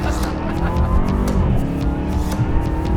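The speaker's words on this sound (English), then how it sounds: "Burnout." A car doing a full-throttle burnout with launch control engaged, tires squealing and skidding over a loud, steady engine roar, close and continuous.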